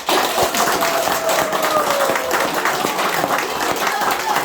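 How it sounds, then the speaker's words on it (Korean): Sustained applause from an audience fills the clip, a dense steady wash of clapping at even loudness throughout. "큰 박수로 모시겠습니다"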